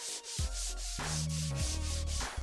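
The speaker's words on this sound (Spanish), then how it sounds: "Pule un trozo de espuma de poliestireno prensado con papel de lija." Pressed polystyrene foam being sanded by hand with sandpaper: steady, rhythmic scratchy strokes repeat throughout, close up, over tonal background music.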